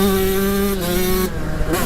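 A 135cc two-stroke dirt bike engine revs hard on a track, a loud buzzing whine with shifting pitch and a brief drop before climbing again.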